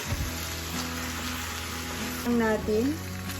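Chicken pieces sizzle as they hit a hot pan with ginger for a Filipino-style creamy chicken curry, a steady close frying hiss with brief stirring scrapes and a short burst of louder crackle.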